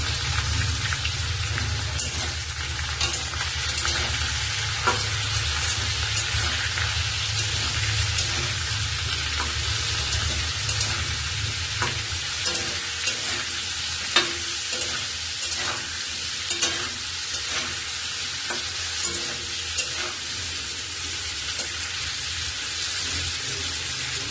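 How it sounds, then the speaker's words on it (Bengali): Cauliflower and potatoes frying in a pan, a steady close sizzle and hiss with repeated scraping taps from stirring throughout. "কপি আলুর সাথে পেঁয়াজটাও ভাজা ভাজা হয়ে যাবে"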